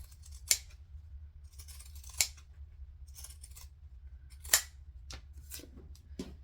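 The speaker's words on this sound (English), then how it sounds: "If you don't have zigzag scissors, you can just grab your snips and just do snips all the way along the curve." Scissors snip repeatedly along a curve in fabric, each cut a sharp, close click spaced irregularly about a second or two apart over a low steady hum.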